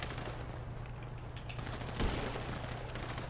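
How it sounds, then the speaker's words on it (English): Video game gunfire pops up in a couple of quick shots, the sharpest one partway through, over constant background game noise and without talk. "I shot the dude twice though, and he didn't die"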